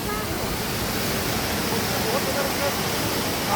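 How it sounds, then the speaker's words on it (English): Manthoka waterfall, a tourist spot in Pakistan, gives off a loud, close, continuous roar of falling water that holds steady for the whole short stretch. "This is Manthoka waterfall."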